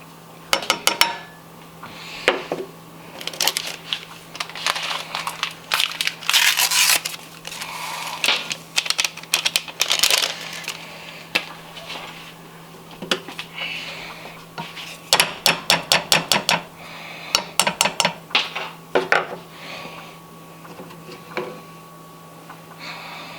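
Ingredients for homemade liquid latex go into a metal pot with repeated hard clatters and clinks, in irregular bursts with short pauses, close and fairly loud.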